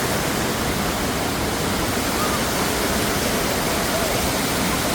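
Waterfall at Hospital Rock in Sequoia National Park in spring, a loud, steady roar of rushing water filling the whole scene with constant broadband noise and no letup.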